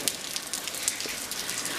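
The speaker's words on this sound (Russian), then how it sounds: "дождь" Steady rainfall patters on a surface nearby, with scattered sharper drops ticking through the continuous hiss.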